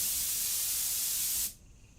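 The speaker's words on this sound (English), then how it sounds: "Air spray." Compressed air duster sprayed in a steady, loud hiss to blow dust off models, cutting off abruptly after about a second and a half into quiet.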